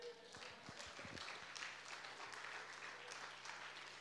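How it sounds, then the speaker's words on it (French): Audience applause fills a comedy stage show, steady and sustained across the whole stretch, with a few low thumps early on and no speech over it. "C'est bon, ça vaut un applaudissement,"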